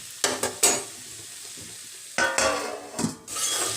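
Okra frying in a pan with amchur powder is stirred: a few quick scraping strokes, a pause, then more scraping over a soft, steady sizzle, with no talking.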